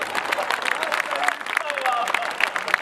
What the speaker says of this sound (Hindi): समझ गए तो ताली जरा जोर से उठा।